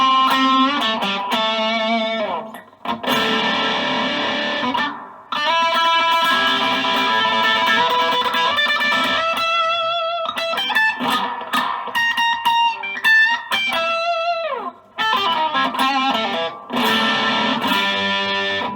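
Electric guitar played through an MXR Dime Distortion pedal, heavy distortion, sustained chords and bending notes ringing out loud, with brief pauses between phrases.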